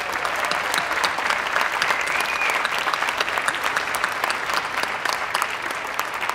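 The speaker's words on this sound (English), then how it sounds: "Please give them a round of applause" Sustained, dense applause from an audience at a school district's Native American student recognition event in 2013, steady and fairly loud throughout with no talk over it.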